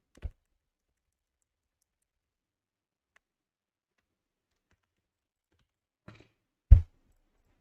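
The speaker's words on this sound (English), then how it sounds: "I'm clicking on Control D." Computer keyboard key presses for a Control D shortcut: a few isolated sharp clicks in a quiet room, one near the start and a pair near the end.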